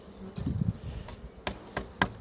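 Honeybees of the Carniolan breed buzz at an apiary while colonies are being expanded, a faint low hum with a few scattered close knocks and clicks around it.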